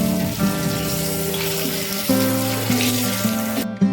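Garlic cloves, dried red chili and a bay leaf frying in a pan, giving a steady, even sizzle under background music that runs throughout.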